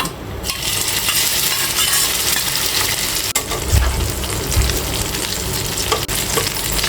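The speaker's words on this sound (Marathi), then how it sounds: "यामध्ये या कोलम्या मॅरिनेट केलेल्या आहेत मैदा आणि कॉर्नफ्लॉवरमध्ये त्या फ्राय करून घ्यायच्या आहेत" Prawns marinated in maida and cornflour frying in hot oil: a loud, close, continuous sizzle with occasional metallic clinks and stirring.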